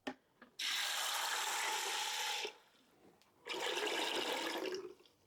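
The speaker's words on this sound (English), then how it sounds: "I'm going to cover them with water to about 3 or 4 inches." Water poured from a tap over nine cups of dry navy beans in a stock pot: a loud, steady rushing stream for about two seconds, a short pause, then a second long pour, close by and with no talk.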